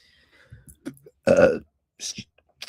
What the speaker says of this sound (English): Excuse my burp.